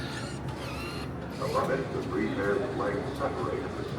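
A Mold-A-Matic souvenir machine at the Seattle Space Needle molds a Space Needle figure, giving a steady mechanical hum and whir amid busy background crowd chatter.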